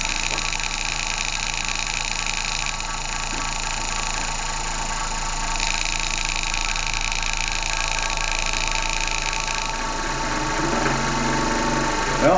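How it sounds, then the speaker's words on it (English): A very small wobbler steam engine runs steadily with a fast, even mechanical chuffing and hum that holds constant throughout, with no voices. "a really little wobbler steam engine"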